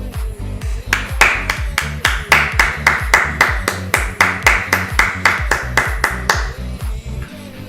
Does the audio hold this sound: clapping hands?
yes